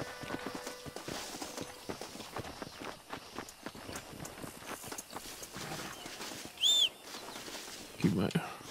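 Stagecoach horse hooves clip-clop in Red Dead Redemption, an irregular run of thuds amid game ambience with a bird call and a brief tonal chirp. Talk is mixed in with the hoofbeats.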